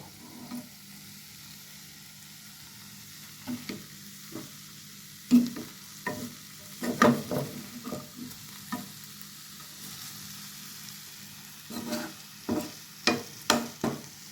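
Hilsa fish fries in a pan with onions, a steady soft sizzle under sharp scraping and clattering as a spatula turns the pieces, close and without talk.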